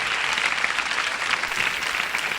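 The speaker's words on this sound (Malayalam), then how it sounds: "അവർ തന്നു കയ്യടി." Studio audience at a celebrity chat show clapping, a dense, sustained burst of applause at steady volume throughout with no voices.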